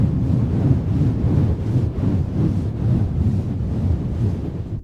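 A dense, muffled low rumble of moving water, close and steady throughout, with gentle pulsing surges and no clear voices.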